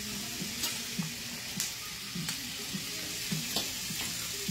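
White asparagus sizzling steadily in a hot pan, a close, continuous frying crackle with light stirring clicks and no talk.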